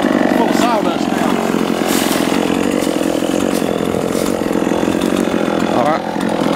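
A chainsaw runs steadily and loud while cutting into a tree during hazardous tree felling, its engine drone continuous throughout with a brief dip near the end, as someone speaks over it.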